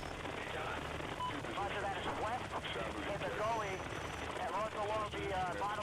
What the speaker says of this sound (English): Chopper coming down.